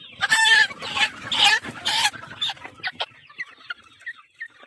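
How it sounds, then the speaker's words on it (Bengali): Sonali chickens on a crowded poultry farm cluck and squawk close by in loud, overlapping bursts that thin out into softer, scattered clucks. "এটা হলো মুরগি"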